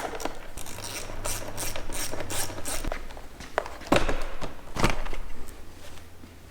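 Ratchet clicks rattle in quick bursts as a hand tool works on fasteners to remove the seat of a 2019 Honda CRF 450L, close and moderately quiet, with a few sharper knocks in between.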